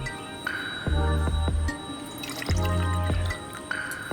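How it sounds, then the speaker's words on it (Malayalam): Water poured into a juicer jar while preparing homemade beer, arriving in a few separate bursts of filling liquid with dripping and light clinks, close and fairly loud with no talk. "ഇനി നമുക്ക് ഇതിലേക്ക് ആവശ്യത്തിന് വെള്ളം ഒഴിച്ച് കൊടുക്കാം."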